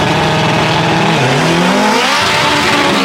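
A Honda K20-engined car and a BMW launch side by side at the 2024 Saldanha drag races, with loud, close engines revving hard, rising in pitch and joined by tire squeal.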